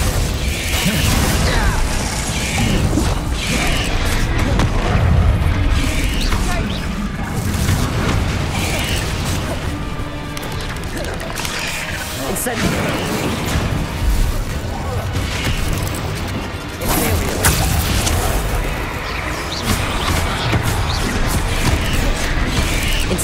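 Spell effects from the Hogwarts Legacy video game, including Bombarda, Descendo and Glacius, sound as a dense run of magical booms, crashes and whooshing bursts with mechanical clatter, loud and continuous over a music bed with occasional voices.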